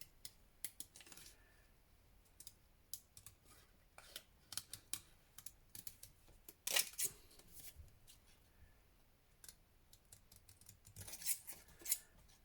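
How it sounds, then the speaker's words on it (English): Scissors snip through a curly end of craft ribbon during Christmas advent-calendar making, producing scattered light clicks and cuts, faint and close, spread irregularly with quiet gaps between. "I'm going to trim that little curly bit of ribbon off"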